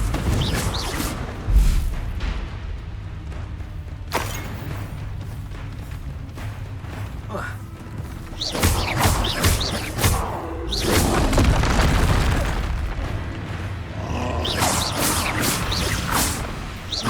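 Confringo explosive spell blasts in the video game Hogwarts Legacy, a run of booming impacts with whooshing casts scattered across the stretch, loud and busy, with heavier bursts clustered near the middle and end.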